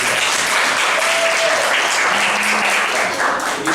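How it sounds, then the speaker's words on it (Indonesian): Students in a classroom presentation session at a university clap together, loud continuous close applause that holds steady, with a brief tone or faint voice underneath. "Tepuk tangan untuk kalian."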